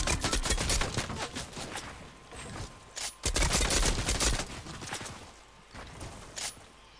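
Rapid bursts of video game gunfire aimed at the player, loud and dense with repeated volleys over several seconds, a brief lull, then more shots tapering toward the end.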